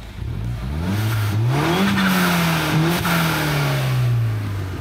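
A MINI Cooper S engine, sport mode off, revs up and settles in one sustained, loud, close pull, the pitch rising, dropping back and rising again before easing down, with no one speaking.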